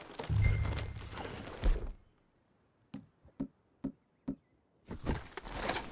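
Four or five sharp, evenly spaced horse hoof clops ring out in a quiet gap in Red Dead Redemption 2, framed by louder bursts of game noise before and after.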